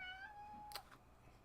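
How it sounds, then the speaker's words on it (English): A pet house cat gives a single clear meow with a falling pitch, close by and alone over a quiet room hum. "my wife's kitty cat"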